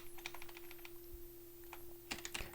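Keys tapped on a computer keyboard that has a slight fault, while working through an Excel 2016 exam task; quiet, sparse keystrokes in short irregular bursts with a few louder clicks near the end.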